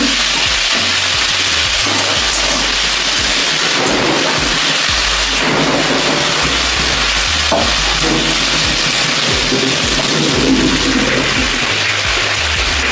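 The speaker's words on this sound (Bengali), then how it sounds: "আমি আলুটাকে কষাচ্ছি এখনো মশলা দিইনি" Potatoes sautéing in a pan on a home cooking fire, with a loud, steady broadband sizzle and hiss running throughout, no talk.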